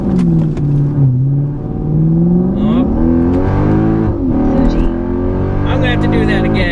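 From inside the cabin, a Lexus IS F accelerates in sport mode, its engine note climbing and dropping through several gear changes, loud and close, while a person talks over it.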